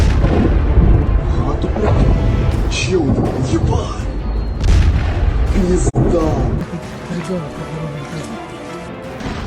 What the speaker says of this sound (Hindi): डोनेत्स्क क्षेत्र के सोल्वियांस्क में रूसी गाइडेड एरियल बमों ने जबरदस्त धमाके किए